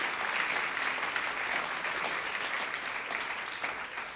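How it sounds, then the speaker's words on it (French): A church congregation claps during worship, a thick, continuous roar of applause from many people that holds steady throughout. "Quelqu'un applaudit le Seigneur pour qui il est."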